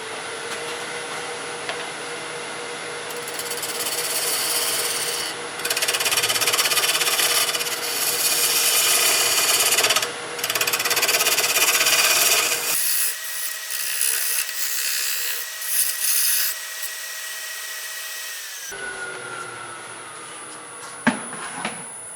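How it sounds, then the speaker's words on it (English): A drill whirs loudly and continuously into wood for several seconds, pausing briefly, then a quieter motor hum before it stops with a clunk. "So basically I'm just going to go ahead and drill this hole."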